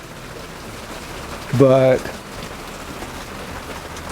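Steady rain falls during a July summer thunderstorm in the mountains, an even, continuous hiss throughout, with a short spoken word breaking in partway.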